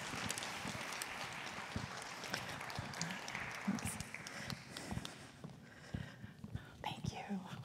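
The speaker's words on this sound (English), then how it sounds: "Let's give a big round of applause and warm welcome to Sarah" An audience claps steadily to welcome a speaker at a talk on American Indian representation in STEM, a dense, continuous wash of hand claps with murmurs that thins slightly toward the end.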